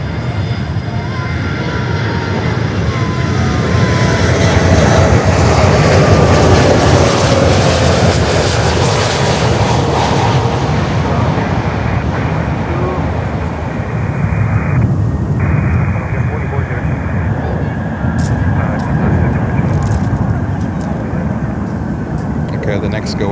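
A Spirit airliner's jet engines roar during a go-around at Miami airport, a loud sustained rumble that builds and slowly fades while people talk and radio chatter runs over it.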